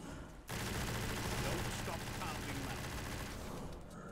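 Sustained automatic gunfire from the video game Biomutant begins abruptly and keeps going as a dense, steady stream of shots, loud and continuous until the end.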